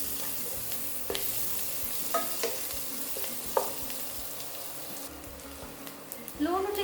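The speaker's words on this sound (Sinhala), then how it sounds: "මේ ටිකත් අපි ලුණුත් එක්කම හොඳට ටෙම්පරාදු කරගමු." Onion, curry leaves and a piece of cinnamon frying for a kadala kottu tempering: a soft, steady sizzle in a pan, broken by a few sharp spoon scrapes as it is stirred, growing louder at the end.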